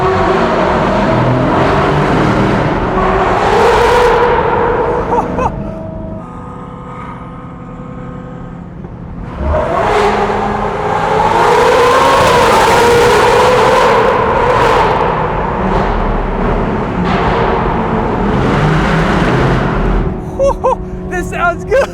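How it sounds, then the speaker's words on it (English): A Mercedes-AMG GT C Roadster engine in race mode, loud and close, rising through revs in strong pulls, easing off for a few seconds midway, then building again. "Wow, these cars sound amazing."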